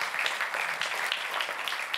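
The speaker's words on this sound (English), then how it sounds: "we can give another round for applause" A brief round of applause from an audience at a Latin America Day program, steady moderate clapping from many hands lasting about two seconds.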